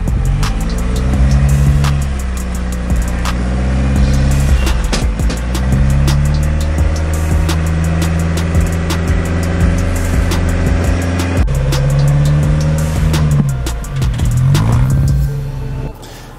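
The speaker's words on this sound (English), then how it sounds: "that buggy stays very stable and is able to drive right through it" An off-road rock crawler buggy grinds over a rocky trail, its engine revving loudly in long surging waves that dip and climb again, close and continuous with no talking.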